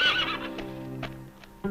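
A horse whinnies, a clear descending neigh with fluttering harmonics up close, followed by a couple of short snorting or hoof-like knocks.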